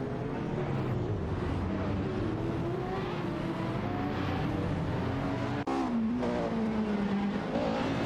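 Renault Sport RS1 and Fittipaldi F7 race cars howl through a racing video game, engines droning with gradually shifting pitch and continuous loud revving, with a brief dip and gear change partway through.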